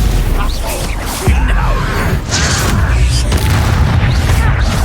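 Blasting-spell explosions in a Harry Potter video game, heavy booming bursts going off repeatedly over dense, continuous game noise, with voices speaking in between.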